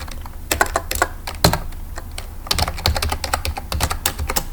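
Fast, irregular keystrokes on a computer keyboard while entering text for a Korean word-processor exam practice, with bursts of crisp clicks and short pauses, close and alone without talk.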